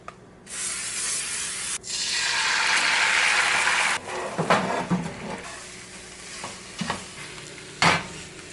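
Cooking spray hisses from a can onto a Teflon pan, followed by food frying and being stirred, with short clicks and scrapes of utensils; moderately loud and close, with no talk.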